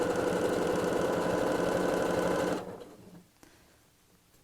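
Sewing machine stitching a fabric bag with lining, running in a loud, steady mechanical whir for about two and a half seconds before stopping abruptly, leaving quiet handling sounds.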